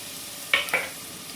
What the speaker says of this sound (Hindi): कांदे को हल्का सा भूनते जाएंगे जब तक।